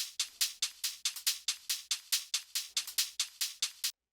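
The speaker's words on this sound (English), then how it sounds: "Then I have a drum rack loaded up with a couple other cymbals from this kit" A drum rack loaded with cymbals from a kit plays a steady, even rhythm of bright, crisp hits, about four per second with occasional doubled strikes, each with a short hissy decay, clear and alone.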